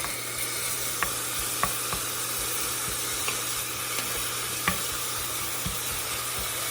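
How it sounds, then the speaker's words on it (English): Bacon sizzles and fries quietly in a pot, with occasional soft scraping taps from a wooden spoon breaking it apart. "just use the wooden spoon and kind of break it apart"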